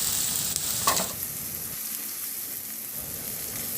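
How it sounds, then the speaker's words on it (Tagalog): Onion and tomato frying in a pan while being stirred, a steady close sizzle with a brief scrape of the spoon near the start, continuing alone without talk. "Ihalo lang din hanggang sa maluto yung kamatis."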